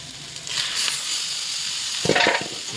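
Meat is poured into a hot pan and sizzles hard, with a steady loud hiss of frying, a burst of clatter as it lands, and a second jolt of stirring noise near the end.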